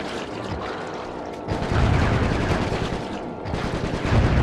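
Sustained automatic gunfire in the Sly 3 video game, a dense rattling stream of shots that swells louder midway and continues steadily without talk.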